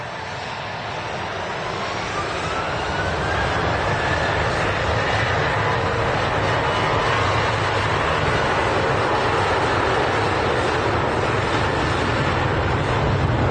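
A Greek Aegean airliner with Pratt & Whitney engines roars steadily at an airport, a broad, loud engine howl with a rising tonal whine that holds for the whole stretch without any talk.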